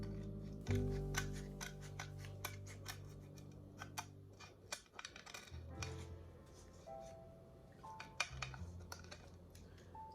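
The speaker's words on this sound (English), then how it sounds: "we're just going to cut off the excess paper" Scissors snip off excess paper around decorated plates in a spring craft project, a run of crisp repeated cuts with quiet pauses between, close and alone.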